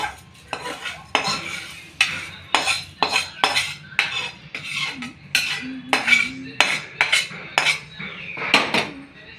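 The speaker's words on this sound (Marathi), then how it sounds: "आपल्याला काय करायचं आधी याला मिक्स करून घ्यायचं आहे गरम तेल असल्यामुळे मग चमच्याने आधी करून घ्या" A metal spoon scrapes and clinks against a pan in steady repeated strokes while puffed rice is tossed in hot oil for a chivda snack, with a faint sizzle underneath; close and fairly loud, with no talking.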